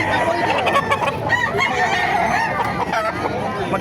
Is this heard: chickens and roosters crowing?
yes